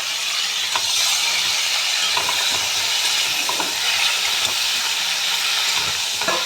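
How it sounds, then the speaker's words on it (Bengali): Chunks of potato, papaya and raw banana fry in hot oil, making a continuous bright sizzling hiss with occasional light stirring clinks, steady and close, with no talk. "এই সবজিগুলো আমি ভেজে নেব।"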